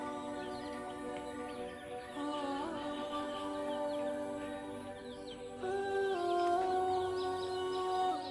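Colour bird chickens on a large poultry farm cluck and call in layered, overlapping voices, a busy flock heard at moderate distance with a steady background murmur.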